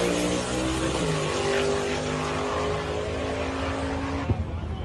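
A drag racing truck in Australia gives a steady, loud engine drone with a strong low rumble, played back from a recording, with a brief thump near the end.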